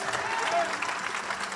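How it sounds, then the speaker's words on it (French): A church congregation in Evry applauds during a sermon, with brief, dense clapping that is steady and moderately loud and mixed with some voices. "I want you to give him a round of applause."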